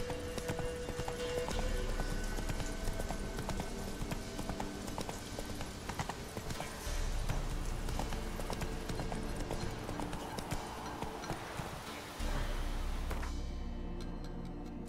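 Horse hooves gallop continuously in Witcher 3: Wild Hunt, a fast, close clip-clop rhythm running throughout over rumbling game ambience.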